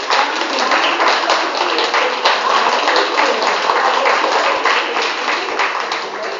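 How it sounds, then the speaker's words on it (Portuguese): Church congregation at a Methodist Easter service clapping steadily together, a dense, sustained wash of applause that holds at an even loudness throughout. "Então quem pode dar uma salva de palmas para o Senhor Jesus?"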